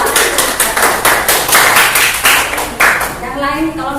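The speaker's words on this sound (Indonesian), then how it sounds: "Tepuk tangan untuk kelompok 2." A classroom of students claps for a presenting group, a loud, fairly rhythmic burst of hand claps in near unison at close range that tapers off toward the end.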